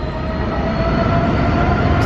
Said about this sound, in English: Okay, look at this train